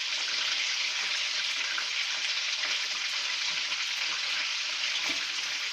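Food frying in a pan in a home kitchen makes a constant bright crackling sizzle that stays fairly quiet and even throughout.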